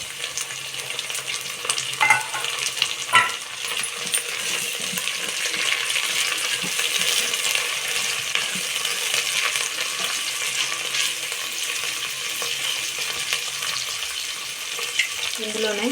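Onions with coriander and mint frying and being stirred in a pot, a steady close sizzle broken by occasional scraping stirs, with no talking.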